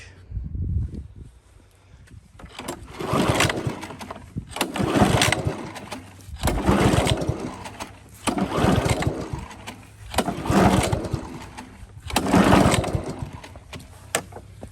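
A Honda Harmony lawn mower engine with water in its gas, on full choke, tries to start outdoors: six repeated bursts of rough engine noise roughly every two seconds, each surging and dying away, with no talk.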